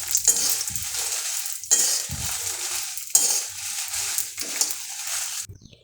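Dried red chillies stirred and lightly fried in a pan, a steady dry sizzle with scraping spatula and utensil clatter in bursts, close and fairly loud, no voices.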